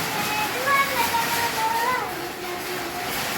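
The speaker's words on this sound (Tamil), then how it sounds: "புத்தாண்டா ஃபஸ்ட்டு மழை ரொம்ப நாள் கழிச்சு வருது" The first rain of the new year in Madurai falls in a steady, broad hiss of drops close by. Faint whistling tones run under it.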